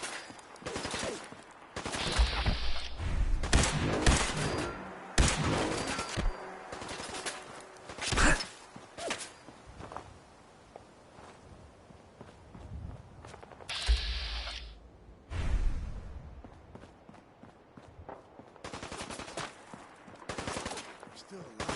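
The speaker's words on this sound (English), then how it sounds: "Need some cover fire over here!" Gunfire in Fallout 4 comes in bursts of rapid automatic fire and sharp single shots, loud and close, with quieter mechanical clicks and gaps between the volleys.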